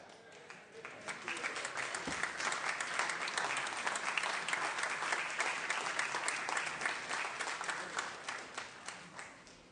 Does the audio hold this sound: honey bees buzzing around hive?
no